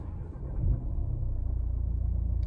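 The diesel engine of a 2019 Mercedes A-Class sedan, AMG Line, turns over with a brief low surge and then settles into a steady, close, low rumbling idle.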